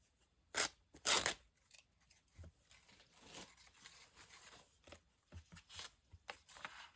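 Magazine paper torn by hand for an altered junk journal: two loud, crisp rips up close, followed by softer crinkling, rustling and a few short tearing snaps.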